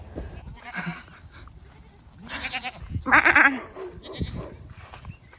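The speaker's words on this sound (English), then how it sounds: "we went by this farm with like 30 goats, and they all ran over to say hello" A farm herd of about 30 goats bleating in several separate calls, one loud and near, others fainter, with rustling and soft background noise between them.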